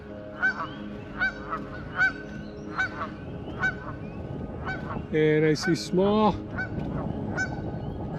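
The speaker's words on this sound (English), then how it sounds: "very small groups of geese out there" Geese in small groups honk repeatedly, some near and some farther off, near nesting herons, with someone speaking briefly partway through.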